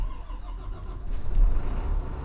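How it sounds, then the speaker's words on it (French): A diesel engine on a Citelis 12 city bus in the OMSI 2 simulator cranks and fires up, a low rumbling build that swells louder midway and settles into a heavy idle. "On va allumer le moteur."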